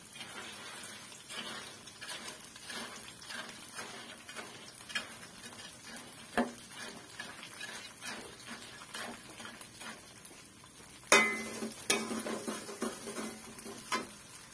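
Kerupuk seblak crackers frying in a pan are stirred with quick, irregular scraping and rattling strokes over a soft sizzle, a few louder clatters near the end, no talking.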